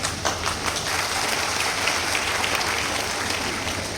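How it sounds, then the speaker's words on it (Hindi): A gathering in Aligarh breaks into clapping, a crowd's hands producing a dense, sustained patter of applause for several seconds, fairly loud and uninterrupted. "अभी कोई ताली बजा रही है।"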